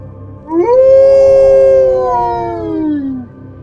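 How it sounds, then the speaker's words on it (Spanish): A drawn-out howl full of rage and pain, loud and close, rising sharply then sliding slowly downward over about three seconds before trailing off, with no talk over it. "dejó escapar un aullido lleno de rabia y dolor"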